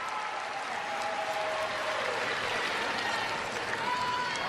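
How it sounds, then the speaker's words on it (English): Sustained applause from a large crowd at a figure skating European Championships in Austria fills a big echoing arena, a dense steady roar of clapping with faint cheering. "Listen to the crowd in Austria."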